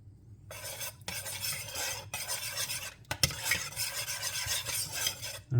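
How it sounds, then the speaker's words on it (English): Liquid stirred in a pot as kimchi brine is brought to a simmer, a steady close scraping and swishing in several strokes with brief pauses between them and no talking. "Then bring this to a simmer."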